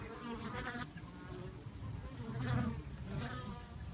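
A dense, steady buzzing of many honeybee drones flying home to the hive, loud and close, swelling slightly in the middle as the swarm passes near.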